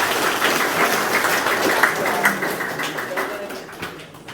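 Applause from a crowd of junior high school students at a school outreach session, a dense steady patter of many hands that thins out toward the end.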